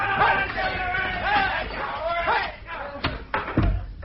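A door in a vintage BBC Cold War spy radio drama slams open and shut with two sharp thuds near the end, after a stretch of voice-heavy sound.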